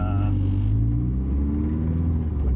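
An all-wheel-drive Mini Cooper engine holds steady revs under load while brake boosting, giving a loud, continuous low rumble with droning tones that shift slightly as the boost builds.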